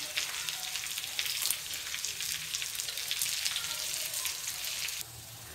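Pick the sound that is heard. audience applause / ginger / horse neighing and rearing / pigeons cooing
ginger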